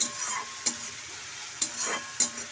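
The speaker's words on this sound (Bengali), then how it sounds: "মাছের ঝালে মশলা কষছি" Spices for a fish curry being stirred in a hot pan, a steady sizzle and fry broken by three sharp scrapes of the spoon against the pan, close and alone with no talk.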